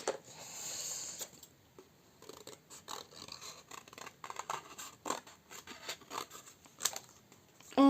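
Scissors snip through paper for a scrapbook, a run of short crisp cuts and rustles close by, irregular and fairly quiet, with no talking.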